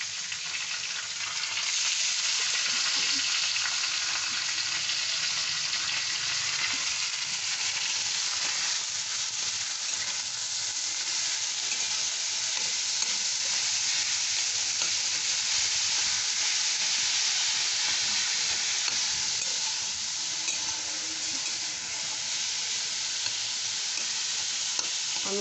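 Shredded cabbage fries over a high flame in a pan, giving a steady, loud, close sizzle with stirring scrapes throughout as its water cooks off. No voices.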